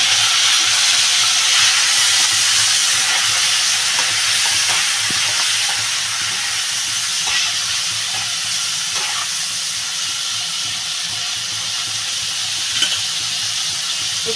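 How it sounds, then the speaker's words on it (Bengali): Prawns fry in hot oil with a loud, continuous close-up sizzle and hiss that eases off slightly as it goes on. "তেলটা আমার গরম হয়ে গেছে, চিংড়ি মাছটা ঢেলে দেবো।"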